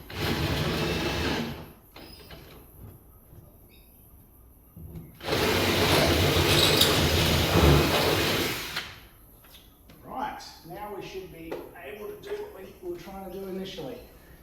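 Power drill boring holes to mount the brackets of Nextgen 11.5 K2F outriggers on a boat, two loud sustained bursts of drilling with a short gap between them, followed by quieter handling clatter and a voice speaking.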